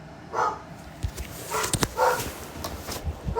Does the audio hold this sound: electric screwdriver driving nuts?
no